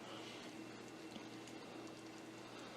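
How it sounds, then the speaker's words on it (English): Steady bubbling and churning of a pot of no-bake cookie mixture at a rolling boil, continuous and fairly quiet with a low background hum. "you want to bring it to a full rolling boil"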